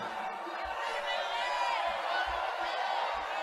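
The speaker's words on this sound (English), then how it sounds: "You can hear the crowd shouting McCain's name." Crowd at a political event chanting a senator's name, a broad roar of many voices with rhythmic shouting surges throughout, loud and continuous.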